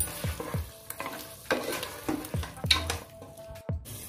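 Ground paste for mutton curry frying in a pan, a loud close sizzle with rapid, repeated scraping strokes of a spatula, about eight quick stirs in a few seconds.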